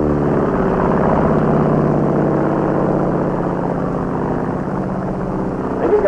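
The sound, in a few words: Japanese Zero fighter plane propeller engine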